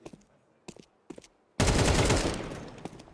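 Counter-Strike gunfire in a pro tournament match: a few short shots, then a loud sustained burst of rapid automatic fire that tails off.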